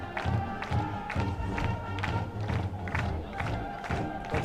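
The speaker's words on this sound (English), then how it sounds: "But the crowd's into it." A high school football crowd at a Jesup J-Hawks versus Waukon game roars and chants in rhythmic bursts, with a band nearby adding loud, pulsing sound.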